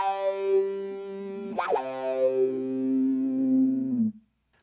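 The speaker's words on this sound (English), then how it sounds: "we have a micro metal muff going in, and it's in series with the filter, and it's going to sound a little something like this" Electric guitar run through a Micro Metal Muff distortion in series with an Electro-Harmonix Q-Tron Plus envelope filter, a sustained distorted chord with a sharp attack and a sweeping filtered tone before cutting off.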